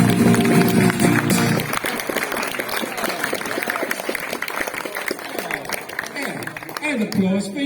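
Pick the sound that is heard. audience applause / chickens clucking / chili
audience applause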